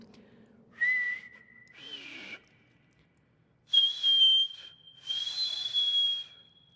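Someone whistles a few clear, sustained notes in separate phrases, with short pauses between them in an otherwise quiet setting.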